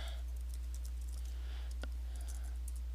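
Quick, light clicks of typing on a computer keyboard, a few scattered keystrokes at close range over a quiet room hum, with no voices.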